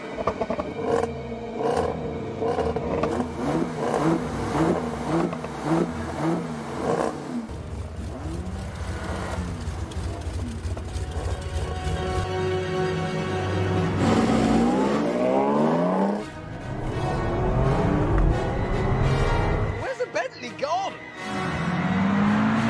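Two cars race, a Range Rover against a lighter rival, engines droning and revving over continuous background sound with shifting tones, interrupted by brief drops.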